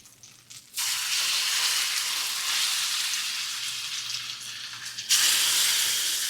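Black drum fish fillets hit hot olive oil in a pan, bursting into a loud, steady sizzle that holds close and bright before flaring again near the end.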